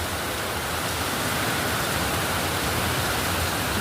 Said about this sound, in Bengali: ভীষণ বৃষ্টি হচ্ছে